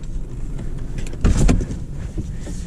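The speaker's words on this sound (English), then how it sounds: "And the windows will go up as well." Power windows on a 2023 BMW 430i Convertible whir upward, a close electric motor hum with a brief louder thump near the middle, heard from inside the car without voices.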